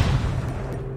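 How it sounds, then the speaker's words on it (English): Heavy, booming gunfire in the mobile shooter Call of Duty Mobile, a loud low-end blast that rolls on for a second with a dense rumbling tail, heard alone without talk. "What's he shooting me with?"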